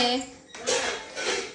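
Plates and cutlery clatter in a home kitchen as dishes are set down for lunch, a few quick metallic knocks and rattles amid voices talking.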